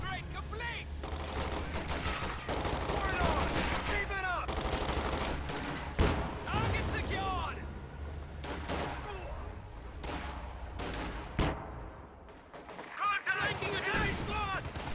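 Video game battle with MG34 and light machine guns firing toward a building, bursts of automatic gunfire and heavy impacts layered over constant battle noise, with a commentator talking throughout.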